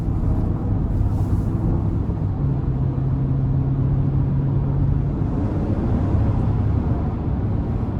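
2022 GMC Yukon SLT with the 5.3 engine accelerating in sport mode, a steady low engine drone with a rising tone, heard from inside the cabin with constant road rumble throughout.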